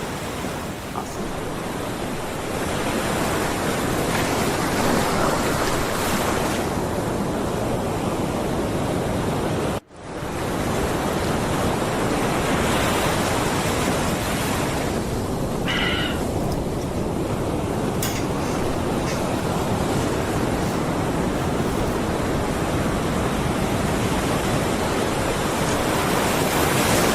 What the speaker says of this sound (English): I'm going to increase the audio on the ocean, on the sounds of the ocean